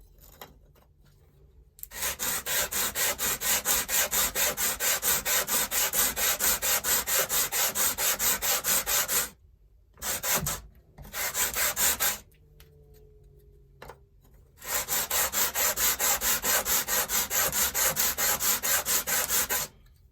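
Wooden guitar top parts sanded by hand in pairs, a loud steady rasping scrape in long continuous strokes, broken by short pauses and a few brief bursts near the middle, with no talking.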